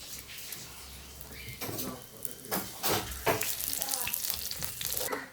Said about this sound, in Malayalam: ആ തവയ്ക്കകത്ത് തന്നെ എണ്ണ ഒഴിച്ചുകൊണ്ട് കടുക് ഇടുവാണ്